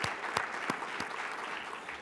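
Quiet, scattered applause from a conference audience at an opening ceremony in Denver, a thin patter of claps with a few sharper individual claps standing out, heard alone without talk.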